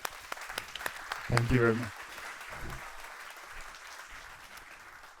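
Applause from a conference audience at a European event on patents, standards and innovation, a soft, scattered clapping that continues beneath a brief spoken thanks and then tapers off.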